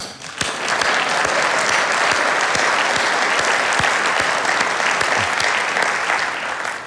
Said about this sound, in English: Please join me in giving you all a big round of applause.